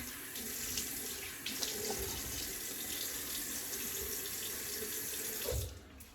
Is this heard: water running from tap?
yes